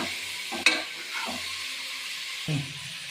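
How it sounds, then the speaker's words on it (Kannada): Mutton pieces frying with salt in a pan, a soft low sizzle broken by a sharp utensil clink and a few scraping stirs, close and fairly quiet, no talking. "ರಾ ಸ್ಮೆಲ್ ಹೋದ್ಮೇಲೆ ಆಮೇಲೆ ಉಪ್ಪು ಹಾಕಿ ಸ್ವಲ್ಪ ಫ್ರೈ ಮಾಡಿ."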